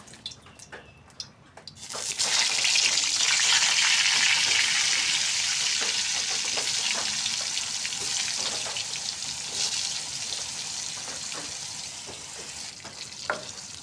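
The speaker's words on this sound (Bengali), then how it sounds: "এখন আমি একে একে সবগুলো পটল তেলের মধ্যে দিয়ে দেব।" Pieces of pointed gourd (potol), coated in salt and turmeric, drop into hot oil in a wok. A quiet start gives way to a sudden loud, steady sizzle that slowly settles into a bubbling crackle with a few light clicks.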